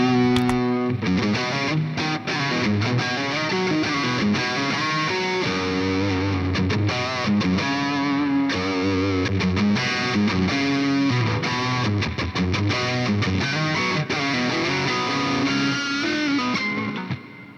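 Heavily distorted electric guitar through a Victory Kraken amp and 4x12 cabinet with boosted presence plays a loud, continuous riff of chugging chords and sustained notes for nearly the whole stretch, with no talking.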